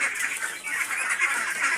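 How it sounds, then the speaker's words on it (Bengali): Farm ducks including white Peking ducks give a continuous chorus of quacking and honking calls nearby, steady and fairly loud for under two seconds with no talk. "ওই সাদা যে হাঁসগুলো দেখতে পাচ্ছেন ওগুলো হচ্ছে বেজিং হাঁস"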